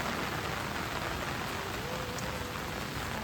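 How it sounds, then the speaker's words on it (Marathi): Heavy monsoon rain in Mangeli, a Konkan village, a dense, loud, unbroken roar of downpour hitting surfaces nearby, with no voices. "जबरदस्त पाऊस लागता आमच्याकडे."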